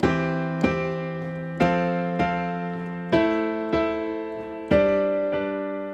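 Piano block chords struck one after another, eight full sustained chords at a slow, even pulse, each ringing out and fading before the next lands, played alone with no voice.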